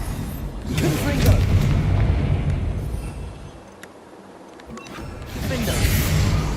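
Confringo spell blasts in Hogwarts Legacy: loud booming explosions with crashing debris, a heavy burst early, a quieter lull in the middle, then another rumbling blast at the end.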